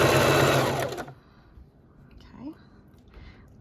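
A sewing machine stitches knit fabric at a slow pace, whirring loudly and close for about a second before stopping, leaving a quiet room with faint, soft vocal sounds.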